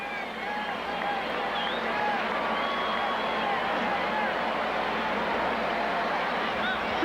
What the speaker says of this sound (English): Sellout crowd